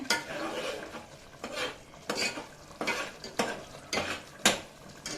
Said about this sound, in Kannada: ಕುದೀತಾ ಇದೆ ಈಗ.